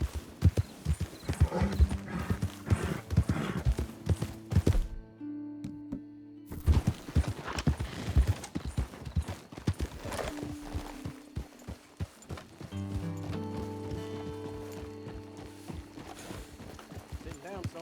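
Horse hooves gallop in a steady, rapid clip-clop rhythm in Red Dead Redemption 2, fairly close and continuous across the clip, with brief neighs, a short quiet gap, and voices talking over the hoofbeats.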